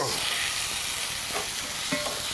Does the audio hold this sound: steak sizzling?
yes